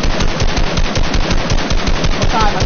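Rapid, evenly spaced machine-gun fire from a shooter video game hammers away without pause, loud and close throughout.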